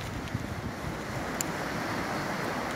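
Sea surf washes steadily onto Košrags beach on the Latvian coast, with wind buffeting the microphone in a continuous broadband roar and no speech.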